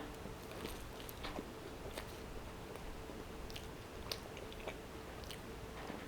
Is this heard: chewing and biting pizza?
yes